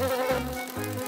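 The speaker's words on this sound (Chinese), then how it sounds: "一只苍蝇，你是来帮助我的吗？" A fly in a cartoon spider-web scene gives off a short, close, droning buzz in two quick pulses, lasting about a second with no talking.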